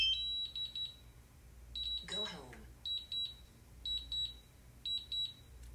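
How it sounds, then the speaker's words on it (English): Repeated bursts of high electronic beeps from a DJI drone remote controller signaling return-to-home, quick triple and quadruple chirps at regular intervals, fairly faint, with a brief rustling scrape midway. "You'll hear the following beeps and prompts that signify return to home has been engaged."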